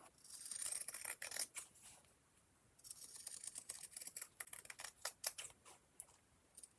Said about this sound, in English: you're going to want to cut around your design, leaving a few centimetres of cloth around the outside